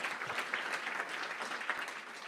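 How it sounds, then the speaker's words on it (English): An audience at a gala applauds with steady, dense clapping across two seconds, heard faintly and at a distance, with no speech over it. "Let's give him another round of applause."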